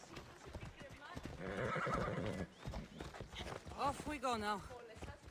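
Horse hooves clip-clop at a steady trot in the Assassin's Creed Odyssey video game, with a horse whinnying partway through and people talking over the riding.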